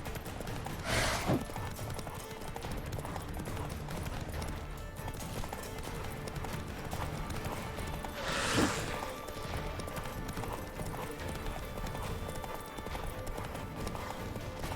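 A horse gallops in The Witcher 3: Wild Hunt, with steady clip-clop hoofbeats running throughout at moderate level and a couple of brief louder whooshes along the way.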